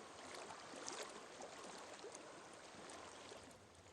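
Steady rushing water flows in the game Hellblade: Senua's Sacrifice, a dense, continuous broadband wash with no voices, holding an even level throughout.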